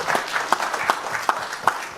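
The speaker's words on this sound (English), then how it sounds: "round of applause." Scattered audience applause at a boxing press conference, a few distinct loud claps standing out over a thinner, fairly quiet background of clapping.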